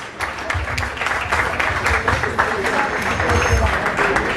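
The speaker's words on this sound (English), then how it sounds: "Please, a round of applause for him." Audience applause at a Nigerian embassy celebration in Rome, a dense steady patter of many hands filling the room, mixed with chatter and voices underneath throughout.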